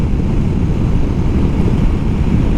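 Steady, heavy wind rushes and buffets the microphone in a constant loud roar, with no pauses and no voices.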